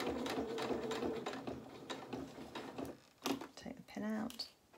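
A domestic sewing machine stitches forward through fabric in short bursts of quick rattling, close and fairly quiet, with brief pauses between runs and someone talking at times.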